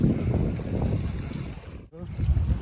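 A small boat rides a river in the Sundarbans near a jetty, with a low rumbling wash of water and gusty wind buffeting the microphone. The rumble dips briefly, then returns.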